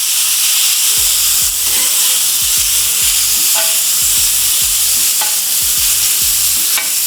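Steak and chopped burger fry on a hot griddle as a spatula flips and scrapes them repeatedly, with loud metallic clanks and scrapes in an uneven rhythm over a constant sizzling hiss.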